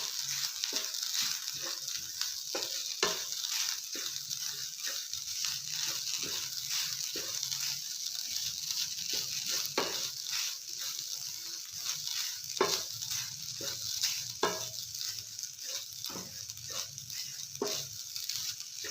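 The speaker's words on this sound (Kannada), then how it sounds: "ಚೆನ್ನಾಗಿ 3-4 ನಿಮಿಷ ತುಪ್ಪದಲ್ಲಿ ಕೊಬ್ಬರಿ ತುರಿ ಹುರ್ಕೊಳ್ಳೋಣ." Grated fresh coconut sizzles steadily in ghee while a spoon stirs and scrapes the pan with irregular clicks, a continuous close frying hiss for the whole stretch with no voices.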